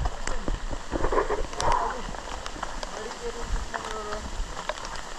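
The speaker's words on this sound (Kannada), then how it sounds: "ಹೆವಿ ಮಳೆ ಬೀಳ್ತಿದೆ." Heavy monsoon rain falls steadily through the forest on the Kodachadri trek in the Mookambika Wildlife Sanctuary, a constant wash of noise with faint voices and scattered knocks underneath.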